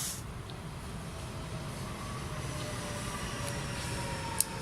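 A faint, steady rumble and hiss of a train rolling by in the distance, continuous throughout with no voices.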